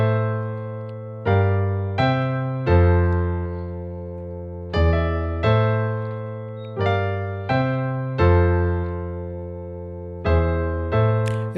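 Piano plays the verse of a song, a series of sustained low chords struck in a repeating uneven rhythm, each ringing out and decaying, loud and close with no voices.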